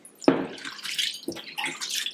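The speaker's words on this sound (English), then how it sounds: "I have 1 cup of split pigeon pea which we are going to wash thoroughly" Split pigeon peas are washed by hand in a bowl of water: two sharp swishing splashes, then lighter sloshing and dripping close by.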